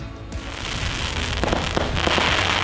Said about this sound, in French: Il y a eu des feux d'artifice pour mon arrivée